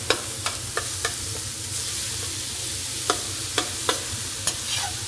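Ground beef fries in a hot pan with a steady sizzle beneath, broken by sharp spatula scrapes and taps at irregular intervals.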